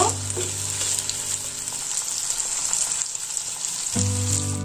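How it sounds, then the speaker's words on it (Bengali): Onions and chopped tomato sizzling in oil in a pan for a puti fish curry, a close, continuous crackling fry with occasional stirring and a low hum in the background, no talk. "পেঁয়াজগুলো ব্রাউন কালার করে ভেজে নেব।"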